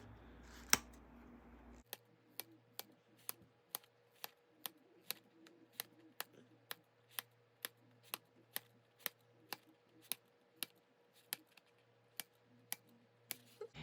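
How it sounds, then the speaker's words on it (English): Scissors snip repeatedly through layers of fabric around a sewn curve on a pouch. About twenty crisp, evenly spaced clicks follow a brief rustle and ring out close and clear against near silence. "we're going to add snips all the way around that curve. So just cut right into it, and you're going to cut through all the layers."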